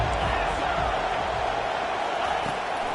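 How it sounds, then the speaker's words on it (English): Stadium crowd noise in the NCAA 25 college football video game during a third-down defensive stand: a loud, sustained roar of a large crowd with scattered cheers, steady from start to finish. "Decibels rising as the crowd gets behind this defense on 3rd down."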